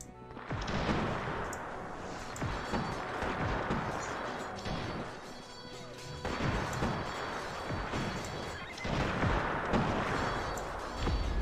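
Troops open fire in the Cossacks strategy game, a dense rumbling volley of many distant musket shots and crashes that swells, dips and swells again without pause.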